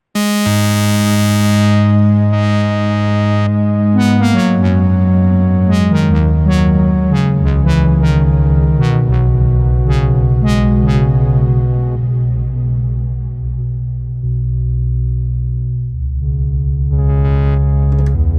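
Sequential Prophet synthesizer playing a stepped, filtered sequence with reverb, bright sustained chord tones shifting pitch in steps and sharp attacks, ending in a reverberant tail before a new swell, loud and alone with no voices.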